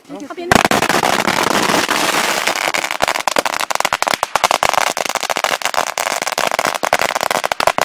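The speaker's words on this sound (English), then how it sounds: "So customary for firecrackers" Dense, rapid crackling of firecrackers going off nonstop in rural China, loud and close, a long string of sharp pops with no pause.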